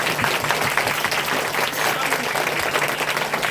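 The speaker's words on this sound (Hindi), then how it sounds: "जोरदार तालियां बजाएंगे परमेश्वर के लिए।" Loud, dense applause from a church congregation during a Hindi-language worship service, a steady wash of many hands clapping throughout with no clear break.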